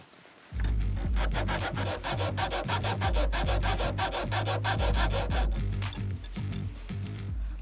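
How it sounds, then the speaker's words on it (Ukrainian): Steady back-and-forth rasping of a bayonet knife's saw-backed blade cutting at a steel cable, a dense rhythmic grinding that starts abruptly and runs continuously at close range, loud and unbroken by speech. "Зараз перевіримо, чи можна штик-ножом розпиляти сталевий трос."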